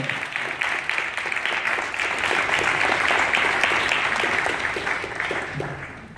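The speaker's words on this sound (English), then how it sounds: "Can we just give some applause to those who have shown up today" Audience at a community and police relations forum applauding, sustained crowd clapping with distinct individual claps audible, swelling slightly in the middle and easing toward the end.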